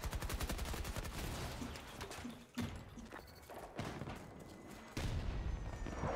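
Gunfire in Battlefield 2042, with rapid automatic bursts and scattered heavier shots and thuds, fairly loud and continuous throughout.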